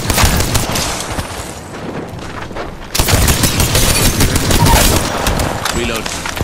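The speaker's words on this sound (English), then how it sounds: "Smart bullet firing" Smart bullet gunfire in Apex Legends comes as dense, rapid automatic bursts with booming impacts, loud and continuous, jumping louder midway, with voices talking underneath.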